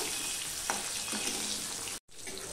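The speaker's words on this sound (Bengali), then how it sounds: "এপিট ওপিট করে একটুখানি ভেজে নেব।" Hilsa fish pieces fry lightly in hot oil, a dense, loud, close sizzle running steadily with a few crackling pops before a brief dropout and its return.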